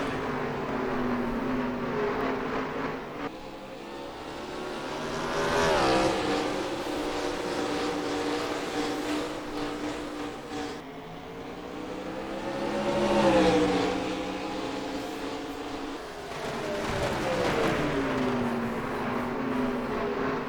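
Race cars in a sim racing game at a night oval, engines droning and rising in pitch through long swells as the pack passes, a continuous layered roar with no talk.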